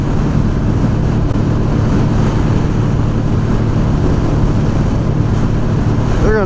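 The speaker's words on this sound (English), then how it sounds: "Yeah, it's pretty windy, but yeah, it's alright though." Steady, loud wind buffeting roars over the microphone throughout while riding a Honda Sabre 750cc motorcycle on a daily ride, with engine rumble blended underneath.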